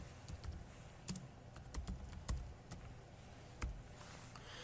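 Keys on a computer keyboard tap in quiet, irregular clusters, with a few sharper clicks standing out, close by in a hushed room.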